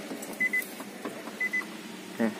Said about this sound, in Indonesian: Kita injak pedal rem dan tekan start stop.